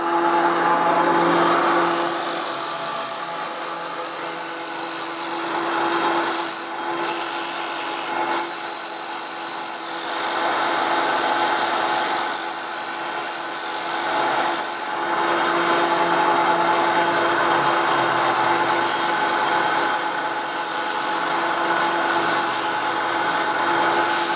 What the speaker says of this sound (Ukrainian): Все, шліфовка.